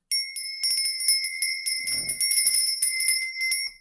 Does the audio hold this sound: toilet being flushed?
no